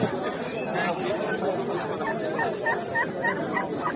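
Chickens and roosters cluck and call at the Sabunçu poultry market, with repeated short calls that grow more frequent toward the end, heard under steady crowd noise and people talking nearby.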